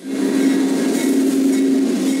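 A train rumbles steadily past the railroad crossing at Waverley and Taylor in Winnipeg, a loud continuous roar with a bright tonal hum held throughout and no pause.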